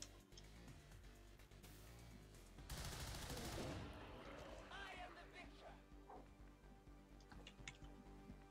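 Gunfire from the strategy game Long War 2 for XCOM 2 War of the Chosen, a loud burst of rapid shots midway through, over background game music.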